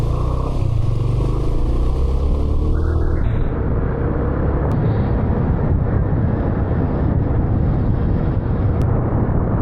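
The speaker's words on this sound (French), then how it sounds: "mon Uber Moto, il est là." A motorcycle taxi in Rio de Janeiro rides along steadily, its engine a loud, continuous drone mixed with road and wind noise for the whole stretch, with no voices.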